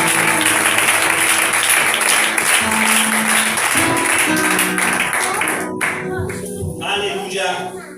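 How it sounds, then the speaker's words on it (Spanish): A church congregation claps loudly and steadily in a sustained round of applause, tapering off near the end as a voice begins speaking over the fading clapping. "¿Le podemos dar un fuerte aplauso al Señor?"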